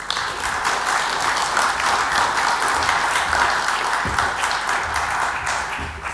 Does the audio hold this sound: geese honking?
no